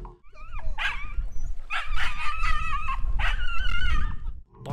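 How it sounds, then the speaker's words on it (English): A dog by the water barks and growls at a hooked shark, giving repeated close, loud yelping barks in quick bursts with whiny, growling tones between them. "Barking and growling,"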